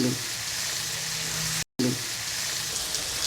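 Pumpkin pieces fry in a pan with spices such as coriander and fennel powder for kumror chokka, a dense, even, close sizzle that cuts out briefly in the middle before resuming.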